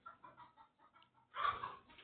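Chickens in the video game Minecraft cluck in a quick run of short, separate calls, then a louder, fuller burst of clucking near the end, with no talk over them.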